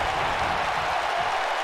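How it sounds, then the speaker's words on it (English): Wrestling crowd cheering and applauding at a Deep South/World Class Wrestling show, a steady wash of noise from a packed arena with no clear individual voices. "Crowd going crazy here"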